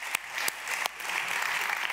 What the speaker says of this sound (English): all of us have to give a large round of applause to these very brave people